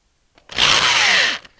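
A hole cutter bores through wood with a steady, loud power-drill whine lasting under a second, starting and stopping abruptly with no talk.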